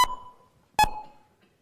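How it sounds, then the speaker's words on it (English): Two electronic beeps are played as a demonstration, spaced apart in time. Each is a sharp, clean tone that rings briefly and decays, loud and close with quiet between them and no talking. "I'm going to play 2 beeps, and these 2 beeps are going to be separated in time"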